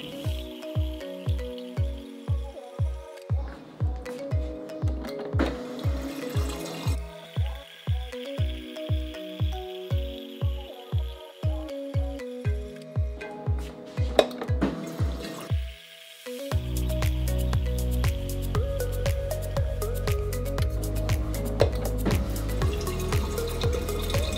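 Water from a GE refrigerator dispenser runs into a jar in a series of short repeated spurts, then settles into a steady pour that deepens in pitch as the jar fills, close by.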